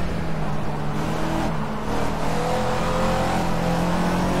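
Caterham Super Seven engine in the Project CARS racing game at Donington, a loud, continuous revving drone holding steady and then rising in pitch as the car accelerates, close and unbroken.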